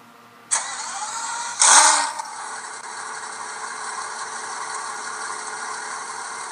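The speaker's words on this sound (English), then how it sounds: "Engines are fired." NASCAR race car engines fire up at a night race: a sharp crank and catch, a brief louder rev, then a steady, rumbling idle that carries on without any talk.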